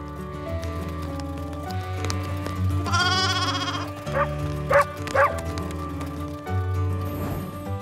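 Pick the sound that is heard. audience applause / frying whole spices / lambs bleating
lambs bleating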